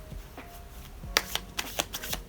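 Tarot cards being shuffled by hand in a series of crisp, riffling bursts, with several sharp card slaps in the second half, close and fairly quiet with no talking.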